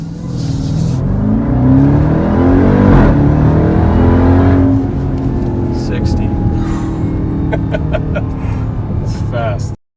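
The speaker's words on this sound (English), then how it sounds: "today we're going to take a look at the 2018 Jeep TrackHawk, or in other words, what I like to call the Hellhawk, one of the fastest SUVs on the planet" A 2018 Jeep Grand Cherokee Trackhawk SUV accelerates hard, its engine roaring loudly with rising revs heard from inside the cabin, then holding a steady high drone; a voice talks over the end.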